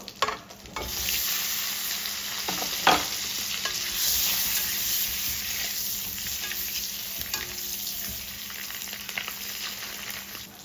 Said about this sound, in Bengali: এখানে একটু হলুদ গুঁড়ো দিচ্ছি, ডিমগুলো ফ্রাই করে নেব।